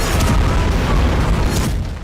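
Heavy war explosions in Israel rumble loud and deep in a sustained low boom that rolls on for about two seconds, with no talking.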